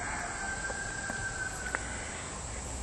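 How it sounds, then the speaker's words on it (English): A rooster crows from a neighbouring homestead property, a faint, distant drawn-out call over quiet rural background hiss, with no voices. "Hear the rooster? That's not mine, by the way. That's the next property over."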